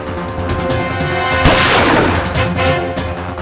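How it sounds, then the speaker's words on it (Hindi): A sharp gunshot bursts out midway over a busy, rumbling background that swells and fades after the blast. "फिर मैंने गोली चलने की आवाज सुनी।"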